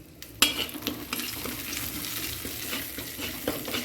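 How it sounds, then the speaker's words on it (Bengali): Asafoetida and bay leaf fry in hot oil in a wok, a steady close sizzle with a sharp burst as the spice hits, stirred now and then. "হিংটা ভালো করে ভেজে নেবো লাল লাল করে।"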